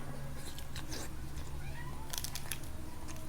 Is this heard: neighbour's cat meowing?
yes